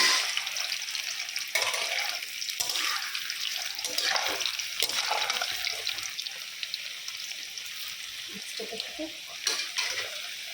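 Sliced boiled potatoes being fried for a fish fry in hot oil in a home kitchen, a steady bright sizzle throughout with occasional stirring scrapes and clinks, close and continuous.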